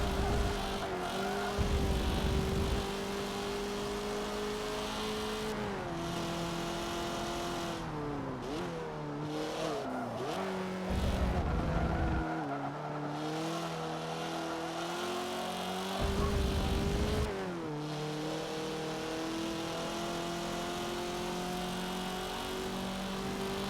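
Race car engine in Forza Motorsport 7 at speed down the Mulsanne straight, a loud sustained drone rising and falling in pitch through gear shifts, with short bursts of louder roar.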